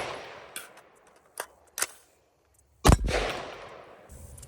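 A PSA AR-15 pistol with a 10.5 inch barrel fires a few sharp, loud shots, two lighter cracks followed by one much louder blast that rings out and decays, with quiet gaps between.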